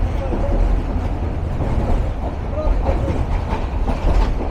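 A Karnaphuli commuter train runs on the rails between Dhaka station and the airport, heard from inside the carriage as a loud, continuous low rumble with rhythmic clatter, and faint passenger voices under it.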